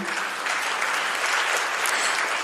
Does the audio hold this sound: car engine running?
no